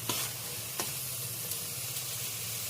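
Boiled, mashed cabbage gets stirred in a pan over a steady low sizzle and hiss, with a few soft scraping strokes of the spoon.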